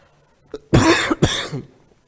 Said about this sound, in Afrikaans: ek gaan maar so hoesie tussen deur 'n bietjie bronchitis